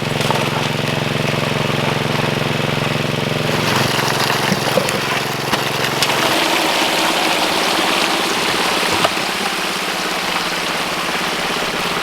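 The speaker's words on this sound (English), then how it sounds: "In between bucket runs, I'm turning the pump back down to idle." A water pump engine running a gold prospecting sluice, steady and loud, its low throb dropping to a quieter idle partway through under continuous rushing, splashing water.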